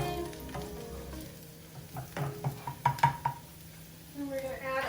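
An onion sizzles softly in a frying pan, turning golden, with a few clinks of a utensil stirring nearby; the frying stays fairly quiet throughout.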